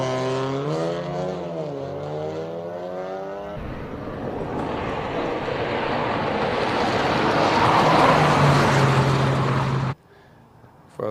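A three-cylinder hill climb race car at King of the Hill, Simola, revs hard uphill: rising engine harmonics as it climbs through the gears, then a long loud roaring pass before it cuts off abruptly.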